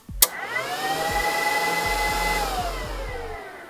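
An audio amplifier dynamometer test rig starts up for a power output test of an Onkyo TX-RZ810 receiver, a sharp click followed by a steady whirring hum with tonal whine that rises, holds, then slowly winds down, with faint periodic low thumps.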